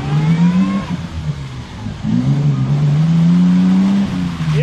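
A Jeep XJ engine revs hard during an off-road mud test, its pitch climbing and dipping in repeated surges, loud and close with no speech over it.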